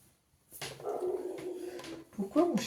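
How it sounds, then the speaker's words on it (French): A pet dog barks somewhere nearby in a home, giving a few yelping, whimpering barks that rise and fall, with a sharper burst toward the end after a moment of quiet. "Pourquoi mon chien aboie"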